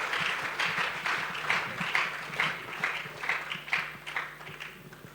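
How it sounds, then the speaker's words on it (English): An audience at the official launch event of an AI bootcamp breaks into applause, a steady patter of many hands clapping at moderate volume for several seconds. "Please give all of them a round of applause."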